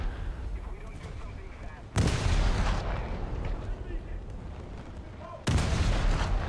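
Heavy naval gunfire in War Thunder from the frigate HMS Leopard (F14): two loud booming shots, each followed by a rolling rumble, over a steady background of engine and sea noise, with no talking.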